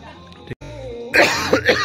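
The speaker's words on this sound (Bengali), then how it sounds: "আমার ঠান্ডা লেগে গেছে, এত কাশি হচ্ছে" A single close cough from a person with a cold, a throat-clearing rasp, loud and abrupt after a stretch of quieter background noise.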